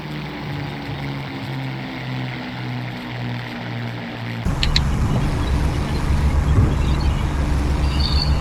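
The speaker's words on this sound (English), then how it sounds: "what a beautiful aircraft. See if we can do a flyby." Heinkel He-219 Uhu twin-engine aircraft making a flyby in a flight simulator game: a steady pulsing propeller drone gives way to a louder, rougher engine roar as it passes close.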